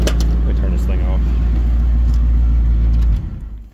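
A truck engine idles with a loud, close, deep rumble and steady low drone, then is switched off near the end and the sound drops away quickly into quiet, with someone talking briefly at the start.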